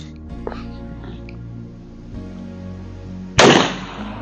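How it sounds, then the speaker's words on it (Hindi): Single loud pistol shot at an outdoor range during a 30 bore and 9mm power test, a sharp crack near the end with a short decaying echo, following quieter handling sounds and low background noise. "दोनों पिस्टल से 9 mm से और 30 बोर दोनों से हमने फायर की है"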